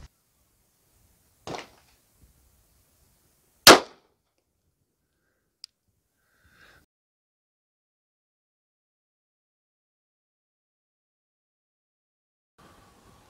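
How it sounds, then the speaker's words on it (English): A 9mm pistol fires 147 grain Winchester Silvertip rounds at seven yards into clear ballistic gelatin, with two sharp, loud cracks a couple of seconds apart, then a faint click and near silence. "Now, one round into clear ballistic gelatin from 7 yards."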